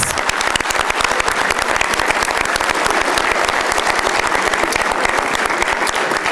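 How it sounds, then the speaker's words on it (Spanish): A room full of people, including students, applauds at a press conference, with dense, steady clapping that stays loud and even for the full stretch. "Un fuerte aplauso para ustedes y muchas gracias."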